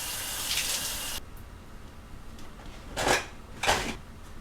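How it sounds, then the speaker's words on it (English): Running tap water splashes over hands in a home kitchen for about a second, then cuts off abruptly, followed by two short bursts of water from the tap a moment later. "I'll wash my hands real quick."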